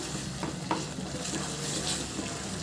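Soya chunk and potato pulav being stirred in a pan, a soft steady scraping and gentle sizzle with a couple of brief utensil knocks, close and continuous.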